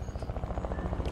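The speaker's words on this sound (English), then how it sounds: "There's a chopper right by." Helicopter in Fortnite hovering close by, its rotor giving a rapid steady chop that pulses evenly through the short moment at moderate volume.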